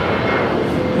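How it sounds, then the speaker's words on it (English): An Air Tahiti Nui Boeing 787 Dreamliner touches down at LAX, heard as a continuous low jet engine roar and rumble, steady and fairly loud throughout the short stretch. "The second Air Tahiti Nui Dreamliner touching down here."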